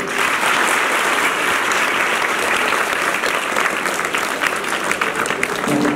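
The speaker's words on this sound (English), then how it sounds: "let us put our hands together." Audience applause fills a celebration honoring teachers, a dense, steady clapping crowd that stays loud and continuous throughout with no break.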